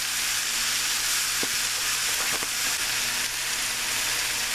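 About 14 ounces of shaved ribeye steak sizzling in a pan for an Italian-style cheesesteak, producing a loud, dense, continuous hiss with a few faint clicks of a utensil and no voices.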